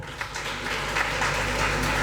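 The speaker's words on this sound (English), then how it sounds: "A round of applause for our sister." An audience at an anniversary celebration gives a round of applause, a dense, steady wash of clapping lasting about two seconds.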